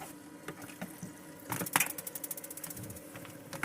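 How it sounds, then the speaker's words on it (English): A water pump in a micro camper van switches on, starting a quick run of rhythmic mechanical clicks and ticks over a low hum. The pulses are close and moderately loud, with no talking. "And I turn my pump on."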